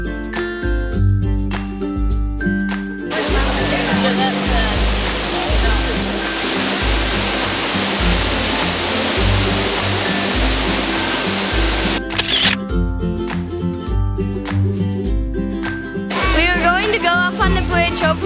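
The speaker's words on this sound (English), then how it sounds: "This is Multnomah Falls, 189 meters." Multnomah Falls, a 189-meter waterfall in Oregon, roars as a steady broadband rush across the whole stretch, with voices and music passing over it at the start and end.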